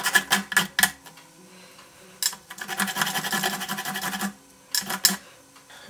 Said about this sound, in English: I'm just going to sand the worst of it off.